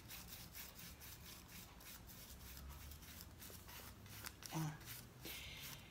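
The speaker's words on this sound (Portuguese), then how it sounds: "E conforme eu vou esfregando, vai saindo o excesso." Scrubbing and rubbing on a craft made from a recycled bottle and cardboard, a steady close scratchy friction that continues with only brief pauses, with a voice talking over it.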